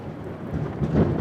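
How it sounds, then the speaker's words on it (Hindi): Heavy rain pours steadily with wind, while low rolling thunder rumbles and swells toward the end, loud and continuous with no voices. "जोर जोर से बारिश हवाओं के साथ खिड़की को हिला रहे थे। बिजली की गरज से चहल पहल मच गई।"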